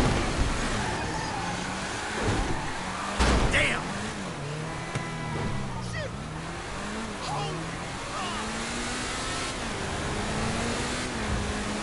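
Car driving in GTA 5 with a steady engine drone rising and falling as it shifts and revs, heard under ongoing game chatter and voices, with a brief louder knock partway through.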